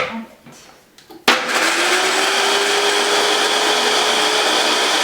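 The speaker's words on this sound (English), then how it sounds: "we're going to grind the hazelnuts in the blender to make hazelnut paste" A blender grinding hazelnuts with a little water whirs to life with a sharp start and runs steadily, a loud continuous grinding drone that holds to the end.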